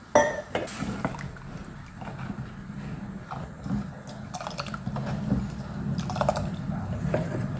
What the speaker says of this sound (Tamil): கொஞ்சமாக தண்ணி ஊற்றிக்கிறேன்